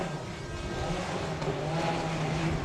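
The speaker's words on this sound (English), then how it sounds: "as the 33 car comes in, leading the LMP 675 division" An LMP 675 prototype race car rolls into the pit lane at Le Mans, its engine a loud, steady droning rumble close by with no speech over it.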